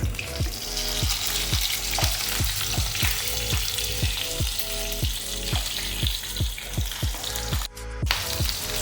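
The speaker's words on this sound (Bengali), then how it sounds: "এবার মাছগুলোকে আমি উল্টে নেব অপর পিঠ ভেজে নেওয়ার জন্য" Pieces of katla fish sizzle loudly in hot oil in a pan and are flipped to fry the other side. A steady crackle runs throughout, with regular light knocks and scrapes of turning.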